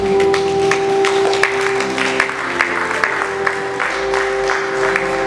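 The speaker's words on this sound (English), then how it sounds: "I think we can celebrate God with a round of applause this morning." A church congregation applauds during a morning service, steady dense clapping from many hands filling the room at moderate loudness over a sustained tonal hum, a few louder claps standing out.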